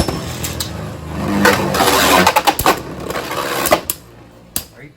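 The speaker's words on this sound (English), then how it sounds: "That's really scary scraping from the Legacy disc." A Beyblade with a Legacy disc scrapes and clatters in a plastic stadium, heard as a loud rattling grind that breaks into rapid sharp clicks and knocks before fading to a few isolated ticks.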